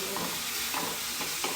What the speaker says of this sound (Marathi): कांदा एकदम लालसर परतून द्यायचा चांगला